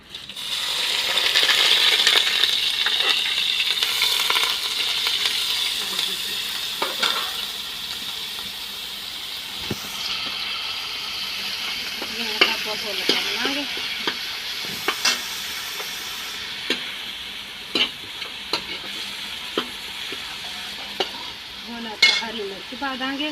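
Onions dropped into hot reused oil hiss and crackle in a sustained fry. Scattered metallic clinks and scrapes from the utensil stand out more in the second half.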